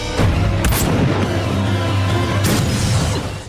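Gunfire in an action film sounds as dull booming shots with a couple of sharp cracks among them, heavy and rumbling over a dense, continuous low background.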